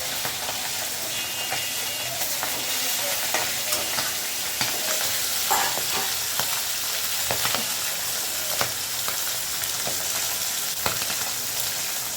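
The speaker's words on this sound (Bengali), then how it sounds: "শেষ আর কয়েকটা ছিল সেটাও ভেজে নিচ্ছি" Food frying in a pan in a home kitchen, a steady close sizzle and hiss lasting throughout with occasional soft stirring clatter, no voices.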